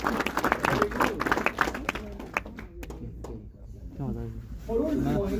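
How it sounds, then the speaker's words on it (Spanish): Congregation applause in a church service, a burst of clapping and crowd noise mixed with voices, fading midway and then swelling again with talk over it. "Denle un aplauso al Señor."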